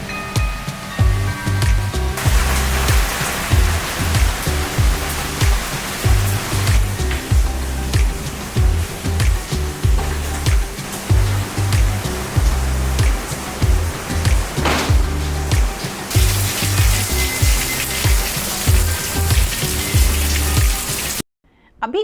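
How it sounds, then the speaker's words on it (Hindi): Heavy rain pouring down steadily, a dense, loud roar of drops drumming on surfaces nearby, continuous throughout with no voices. "आज बहुत तेज़ बारिश हुई"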